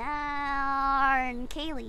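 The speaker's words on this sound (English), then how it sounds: "just a cat but crying." A cat cries in a long, steady, wailing tone in a retro-style horror game, held for over a second before a player briefly speaks.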